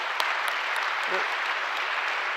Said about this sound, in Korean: 한번 박수 한번 하겠습니다.